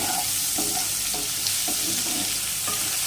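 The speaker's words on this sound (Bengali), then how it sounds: "লাউ ভাজার সময় যদি আমরা হলুদ ব্যবহার করি" Bottle gourd frying in a pan of oil without turmeric, a loud, steady sizzle with regular soft scraping strokes of stirring, heard close up with no talking.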